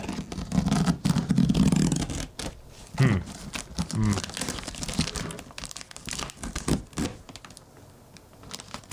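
A very well-taped package is sliced and torn open with a knife, with close crinkling, crumpling and ripping of tape and cardboard in bursts, and a few brief voices in between.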